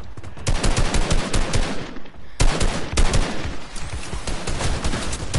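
Video game gunfire blazes continuously during a fight against an enemy mech, dense rapid automatic bursts with a brief break partway through before the shooting resumes.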